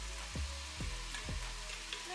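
Vegetables and marinara sauce simmer and sizzle in a home pan, a steady close frying hiss with three soft low thumps of stirring at regular intervals, no talking.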